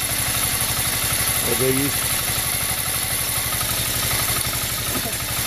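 An engine idles with a steady rapid low chug and faint metallic rattle before plowing, with a brief voice speaking over it partway through.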